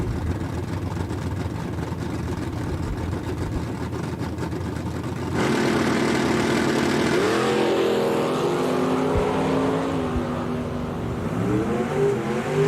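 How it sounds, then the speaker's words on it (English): A Mustang and a pickup truck launch side by side in a bracket drag race at Eddyville Raceway Park, engines idling then roaring up sharply at the start, revving through gear changes, loud and sustained. "Mustang versus pickup."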